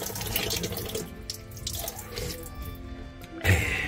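Water runs steadily from a public tap in Frigiliana, Spain, a continuous close splashing stream with a brief louder gush near the end.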